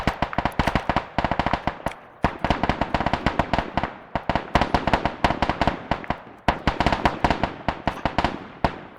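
Rapid bursts of aircraft cannon fire from a gun run in the military video game Arma, with dense crackling volleys and short gaps between strafing passes, loud and continuous throughout.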